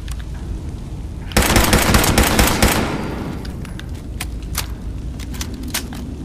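Gunfire from a headshot in Fallout 76, starting with a sudden loud burst of rapid shots that fades into a rumbling tail, followed by a series of separate sharp cracks and clicks.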